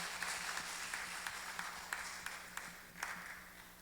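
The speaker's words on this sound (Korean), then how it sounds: "다시 한번 네, 박수 부탁드립니다." Faint, thin applause from a small church youth-service audience rises with scattered claps and a few sharper hand strikes, distant and light, lasting a few seconds.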